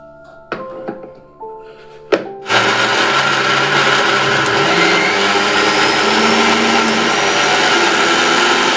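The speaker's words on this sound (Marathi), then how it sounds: "आता आपल्याला हे मिक्सरमध्ये लावायचे आहेत." A mixer grinder whirs steadily as it grinds squeezed soybeans, kicking on after a few clicks and knocks and then running loud and continuous until the end.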